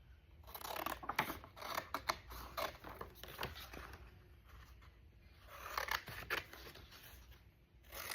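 Scissors snipping around a freshly printed photo for a fall journal page, a quiet run of irregular close-up cuts and paper rustles with small clicking blade sounds and no talking.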